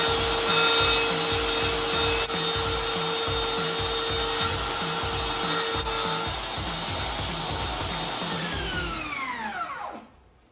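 A hand saw freehand-cuts a wooden filler strip with steady, rhythmic back-and-forth strokes, close and fairly loud over a constant machine hum, which spins down and stops at the end; no one speaks.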